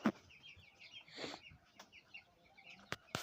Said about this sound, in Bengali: এই 40টি মুরগির বয়স এখন 14 দিন বয়স।